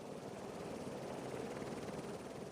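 A helicopter being refuelled at Sion airport in a Swiss valley, its steady rotor and turbine drone continuous and fairly close, with no talk.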